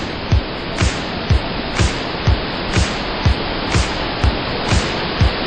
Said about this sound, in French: où on a pu voir pas mal de cascades